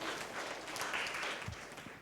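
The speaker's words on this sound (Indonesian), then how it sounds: "Yang setuju berikan tepuk tangan meriah buat Tuhan kita." A church congregation applauds during a worship service, a faint, diffuse patter of many hands clapping at a distance, steady and low in level.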